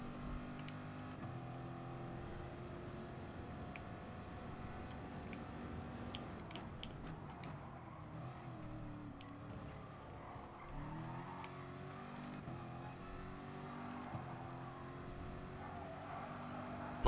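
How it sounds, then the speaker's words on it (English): A race car engine in the game Gran Turismo at Dragon Trail Gardens drones steadily, revving and shifting with occasional tire squeal, close and continuous for the whole stretch with no talk over it. "I can actually hear the car."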